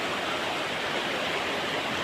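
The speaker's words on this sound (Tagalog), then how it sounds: "Tingnan nyo naman yung alon na yun." A steady, loud roar of surf with waves washing in continuously, a broad hissing rush and no distinct breaks.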